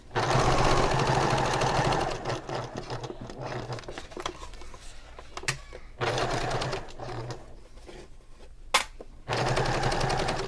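Sewing machine stitching down the seam edges of a handbag, running in several close bursts with short stops between, steady rapid needle chatter and occasional sharp clicks.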